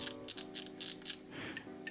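An Ark Gravity BFS fishing reel drag clicker makes quiet, rapid mechanical clicking in short bursts of ratcheting, close and crisp, with brief pauses between runs.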